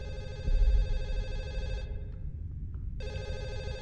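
Telephone ringing in a horror video game: a steady electronic ring tone sounds loud and close, breaks off for about a second, then resumes, over a low rumbling background.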